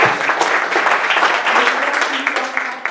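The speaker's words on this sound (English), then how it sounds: "You don't have to applaud for yourself." Audience applause at a community scholarship event honoring founding members, a steady wash of many hands clapping continuously throughout, fairly loud and even with no speech over it.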